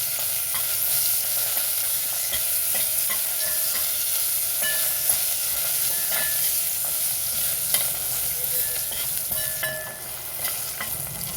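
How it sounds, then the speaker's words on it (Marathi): Green chillies fry in hot oil with asafoetida and curry leaves for cabbage bhaji, giving a steady, close sizzle with faint crackles and occasional stirring clinks, no voices. "हिरवी मिरची घालून घेऊ। 1-2 मिनिटं तेलात परतून घेऊ।"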